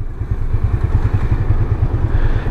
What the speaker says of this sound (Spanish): aquí cuando hago esto así, que no acelero ni nada, casi no se escucha el motor